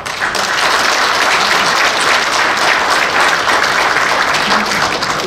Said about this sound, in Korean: 큰 박수 한번 보내드립니다.